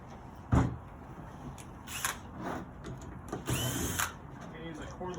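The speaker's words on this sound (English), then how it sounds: "I'm going to use a cordless drill just to kind of speed this part up." A cordless drill backs screws out of a sword casting mold in short separate whirring bursts, with quiet handling and clatter between them.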